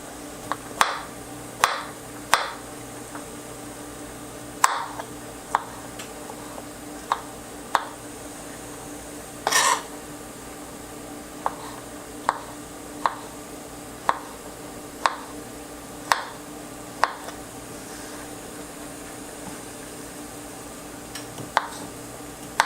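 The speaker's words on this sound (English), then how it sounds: "I'm going to start doing my chopping" A knife chops vegetables on a cutting board, sharp taps repeating at a steady, unhurried rhythm, close by with a faint background hum.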